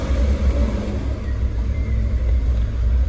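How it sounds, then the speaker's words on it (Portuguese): A Chery Tiggo engine idles steadily and loudly up close, keeping an even low rumble without any revving. "a marcha lenta dele tá certinha"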